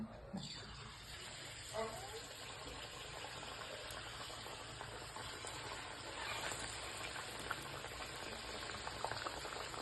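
Sweet potato snack frying in hot oil, a continuous bubbling seethe that stays steady and fairly faint for about ten seconds, with occasional small clatters nearby.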